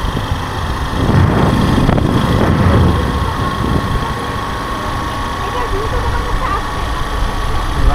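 A motorbike engine runs steadily at close range, with a louder surge near the start that settles into a continuous hum, accompanied by some wind buffeting.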